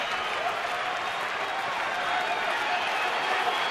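A baseball stadium crowd with two outs in the ninth inning of a Dodgers at Diamondbacks game gives a dense, steady roar of clapping and cheering, loud and continuous without a break.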